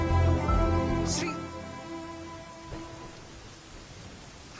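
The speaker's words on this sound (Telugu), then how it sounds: "వర్షం తగ్గిన తర్వాత వెళ్ళు." Rain falls steadily as a broad hiss during a night scene outside a pub, loudest at first and then easing off to a softer patter with a faint rumble, with no voices over it.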